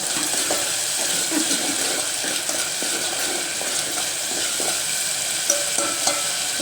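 Spicy egg curry in a pan sizzles steadily as salt is stirred in, with a continuous bubbling hiss and soft scraping strokes from a spoon, close and fairly loud.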